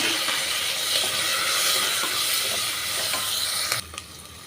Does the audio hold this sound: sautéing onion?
yes